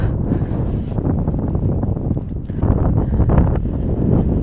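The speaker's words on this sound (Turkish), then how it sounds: "Rüzgarın sesi de çok korkunç." Strong desert wind buffets the microphone in heavy, low rumbling gusts that roar continuously and swell louder toward the end, with no other sounds cutting through.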